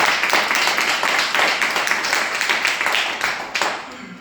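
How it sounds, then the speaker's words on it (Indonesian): An audience at a motivational training day claps together in a dense, steady burst that stays loud for about four seconds before thinning toward the end, with a voice briefly audible under it. "Tepuk tangan."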